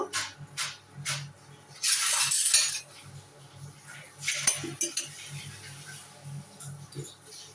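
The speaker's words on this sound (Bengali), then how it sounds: "এখন আমি চুলার উপরে একটা কড়াই বসে দিয়েছি" A metal wok set onto a stove with clanks and clinks of pots and cutlery, a few sharp bursts of scraping and knocking between quieter kitchen handling sounds.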